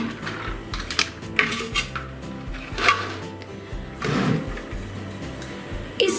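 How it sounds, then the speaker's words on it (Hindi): An ice cream maker is opened and handled, with plastic parts clattering, tapping and scraping in an irregular run of close knocks and clunks, and no one talking. "तो अब हम अपने आइसक्रीम मेकर को खोलेंगे।"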